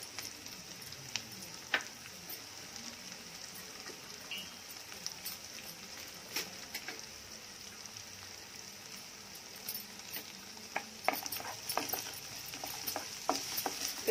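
Garlic frying in a pan while cooking a spicy taro root curry, a faint steady sizzle with scattered soft crackles and occasional stirring scrapes, close and without talk.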